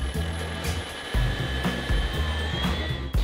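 A Xiaomi wireless floor scrubber runs with a steady, fairly quiet motor whir and a low pulsing hum as it moves across the floor.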